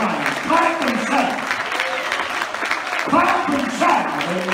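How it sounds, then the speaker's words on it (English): A church congregation at a midweek service claps hands together in a dense, continuous burst of applause, with shouting voices mixed in throughout. "I want you to give the Lord one of the greatest hand claps He can ever give in His house"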